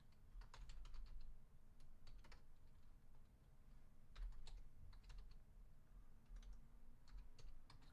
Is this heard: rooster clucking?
no